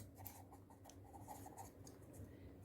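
Pen or chalk writing out a geometry statement, a quiet run of short scratching strokes and taps in an uneven rhythm, close and soft with no talking.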